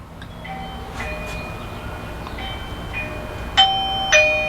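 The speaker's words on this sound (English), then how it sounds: "We're actually gonna just ring the doorbell with the phone." A Eufy 2K video doorbell chimes, triggered remotely, giving two clear tonal rings near the end over a steady room hum, with fainter tones earlier.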